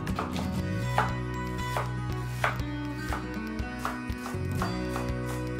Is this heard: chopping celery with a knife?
yes